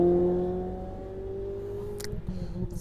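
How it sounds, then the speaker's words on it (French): A car drives by too fast outdoors, its loud engine droning steadily and then fading off, followed by some rumbling and clattering noise, with no voice. "on a des gens qui roulent un petit peu trop vite ici et qui font beaucoup de bruit avec leur voiture"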